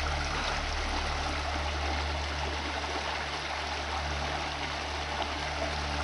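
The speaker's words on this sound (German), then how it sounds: "So, dann sitze ich hier an so einem Bach, wo ich vorher schon mal reingeflogen bin" Small brook flowing steadily outdoors, a continuous close-up rush and trickle of water with no speech over it.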